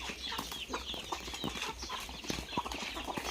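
Chickens on a rural Philippine farm cluck in short, scattered calls at close to moderate distance over a light outdoor background, with no talking.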